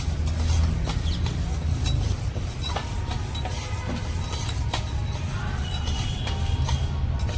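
Horse gram dry-frying and being stirred in a pan, a continuous soft rattling and scraping of the grains with scattered light clinks from the utensil, close and steady throughout.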